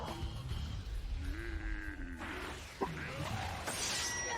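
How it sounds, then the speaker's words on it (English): A monster's deep, rough roar from the anime Claymore, episode 4, rises over a dense, noisy action-scene mix with a sharp hit in the middle and sustains loudly toward the end. "Oh, we hear a roar."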